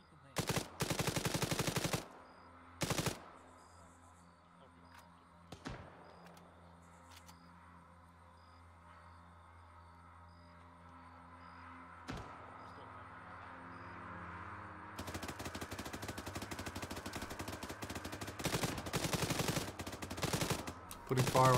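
Gunfire in the video game ARMA 3: a couple of sharp shots at the start, scattered single reports, then a long stretch of dense, sustained automatic fire near the end.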